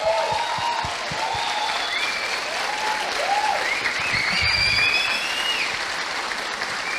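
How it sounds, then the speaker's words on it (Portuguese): Congregation applauding a church team from Blumenau at a congress, steady crowd clapping throughout with some cheering, high whistling tones layered over the clapping. "merece uma salva de palmas aí"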